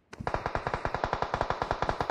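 Rapid automatic gunfire in a mobile battle-royale shooter, a single sustained burst of about twenty evenly spaced, close, punchy shots with no talk over it.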